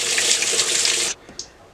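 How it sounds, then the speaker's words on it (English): Warm water runs hard into a washing machine, a loud, steady rushing gush that stops abruptly after about a second, followed by a few faint drips and clunks. "you want to fill your washing machine or pot first with warm water"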